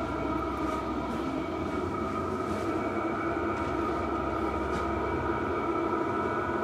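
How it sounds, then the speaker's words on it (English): A diesel heater in a Land Rover Defender camper runs with a constant, faint droning hum and a low whirring tone, steady throughout with no voices. "the diesel heater works, guys. Second firing, not bad."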